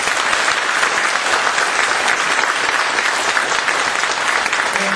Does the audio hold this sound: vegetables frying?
no